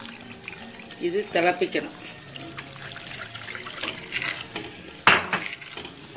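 Water poured into a pot of Kerala-style ginger curry (inchi curry), splashing and trickling with clinks of a pan, while someone speaks over it.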